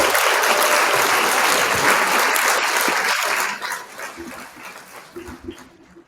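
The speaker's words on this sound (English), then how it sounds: "Let me give y'all some applause here." An audience at a football player interview event breaks into loud, dense clapping that holds for about three seconds, then thins out and fades to scattered claps.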